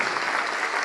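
A church congregation claps in a dense, steady burst of applause that fills the room evenly for a short moment, with no voices standing out.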